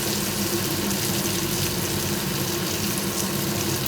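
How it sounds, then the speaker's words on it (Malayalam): Coconut oil poured into a hot clay pan on a gas flame, a steady hissing sizzle with no pauses, close and fairly loud. "കുറച്ച് വെളിച്ചെണ്ണ ഒഴിച്ചു കൊടുക്കാം."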